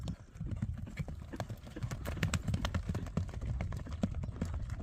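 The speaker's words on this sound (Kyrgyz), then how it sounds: "Биринчи атты бастырып көрөлү." Hooves of a grey horse walking at a steady pace, an even clip-clop close to the microphone, with a low rumbling background and no talk.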